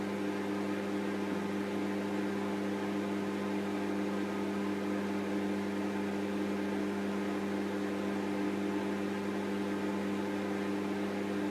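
A microwave oven runs with a steady, loud electrical hum and whirr that holds unchanged throughout, with no voices.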